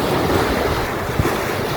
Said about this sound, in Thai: เขาเรียกคลื่นแรงแต่คลื่นนิ่ง ไม่กระแทกเลย